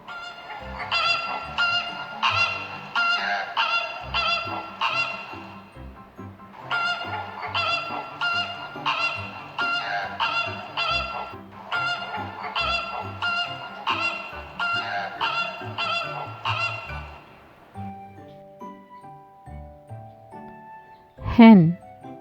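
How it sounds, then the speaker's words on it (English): Flamingos give nasal, honking calls in rapid repeated bursts. Three dense clusters of honks are followed by quieter scattered calls and one sharp, loud call near the end. "Flamingo."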